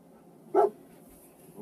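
A single short bark from the dog companion in Fallout 4, fairly clear and isolated against a quiet game background, with a faint second sound near the end.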